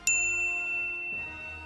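A bright notification bell dings once, sharp and ringing, its tone sustaining and slowly fading over a low background bed of music.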